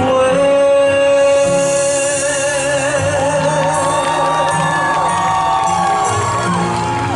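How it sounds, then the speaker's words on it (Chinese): A crowd cheering, whooping and shouting at an outdoor concert during the hot air balloon carnival at Luye Highland, Taitung, loud and continuous over sustained music. "这个掌声不要给我们给后面的热气球"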